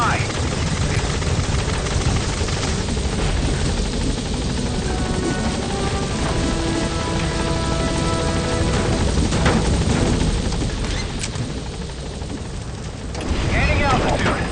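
Helicopter engine and rotor noise from the Metal Gear Solid V: The Phantom Pain game as the chopper arrives at a landing zone, a loud sustained roar with a radio-style voice speaking over it.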